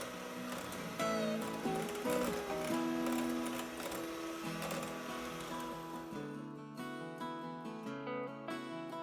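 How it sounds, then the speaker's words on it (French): An electric whisk beats chocolate muffin batter in a bowl, a steady buzzing whir with rattling texture running continuously and close, without talk. "Je blanchis le tout à l'aide du fouet électrique."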